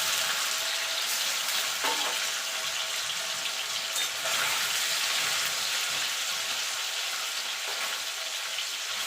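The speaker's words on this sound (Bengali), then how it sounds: "এবার পনিরগুলো দিয়ে পনিরগুলোকে ভেজে নেব" Paneer cubes fry in hot oil with a continuous, dense sizzle and crackle, close and steady throughout, with occasional faint stirring knocks.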